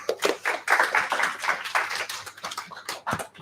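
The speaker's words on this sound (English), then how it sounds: "A round of applause." A small meetup audience claps in steady, dense applause that holds for a few seconds and then thins out, fairly near and without voices over it.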